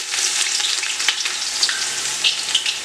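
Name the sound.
onion frying in hot ghee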